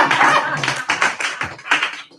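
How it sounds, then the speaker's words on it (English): Short scattered bursts of hand clapping from an audience at a Sunday scripture gathering, several uneven claps close by and fairly loud, no voices over them. "Now you can clap."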